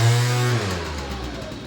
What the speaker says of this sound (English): It's got a lot more power to it when it pulls away.